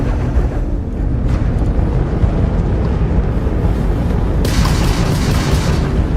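Ship weapons fire during space combat against a Crimson Fleet ship in Starfield, a dense, continuous rumble of booms and blasts that sounds loud and close, with a brighter hissing burst near the end.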